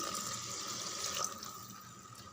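Water poured steadily into rice for cooking, a continuous close splashing and trickling stream with a faint clunk at the very end.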